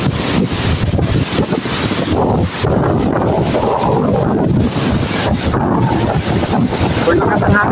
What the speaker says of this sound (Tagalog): Super lakas ang hangin.